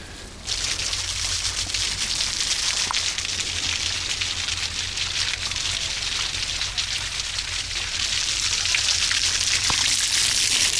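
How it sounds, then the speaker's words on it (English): Waterfall spilling down the cliffs at Mystic Beach on Vancouver Island, a steady, dense rushing splash that holds constant and fairly close throughout, with no talk over it. "It has this waterfall that's coming down from the cliffs here."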